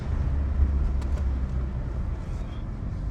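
A car with a freshly rebuilt forged engine cruising along a bypass, heard from inside as a steady low engine and road rumble with constant drive noise and no talk.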